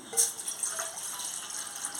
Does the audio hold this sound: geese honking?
no